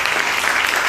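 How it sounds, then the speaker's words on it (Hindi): Audience applause at a church gathering led by a pastor, steady dense clapping filling the moment with no voices over it. "जो आउटरीच करे कम से कम ताली तो बजाना चाहिए था।"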